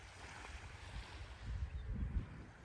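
Wind gusts across an outdoor microphone in eastern Quebec near Percé in the Gaspésie region, a steady low rumble swelling louder toward the end, with no voices.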